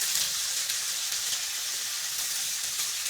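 A cut tomato going into sizzling ground masala in a pan, a loud, steady, close hiss of frying with no pauses.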